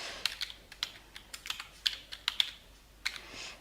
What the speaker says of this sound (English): we want to type in the username that we've assigned to that new database